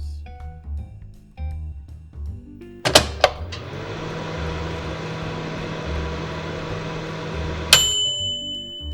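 Oven running while a clay figure bakes: clicks and a beep, then a steady electric hum with a low drone that runs for several seconds before another beep and click end it.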